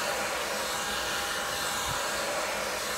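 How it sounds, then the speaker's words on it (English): A handheld blow dryer on its cool setting runs steadily and loudly at close range, a constant airy whoosh with no pauses and no voices. "I love this blow dryer"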